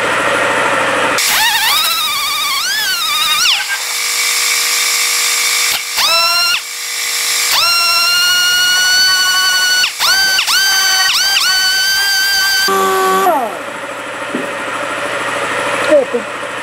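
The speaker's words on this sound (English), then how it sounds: "I'm going to try a DA sander and see if this cleans it up a little bit easier." Dual-action sander working on cracked aluminum, a loud whining motor that spins up and down in repeated bursts with pitch sweeps, broken by short pauses and a final spin-down.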